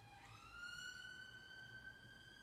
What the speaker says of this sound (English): Just letting the ambulance go by.